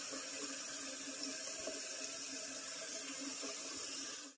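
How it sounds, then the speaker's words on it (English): Tap water pours steadily into a big stock pot, a continuous close-up rushing splash that runs unbroken for several seconds before cutting off. "Take your big stock pot and fill it 3/4 of the way full."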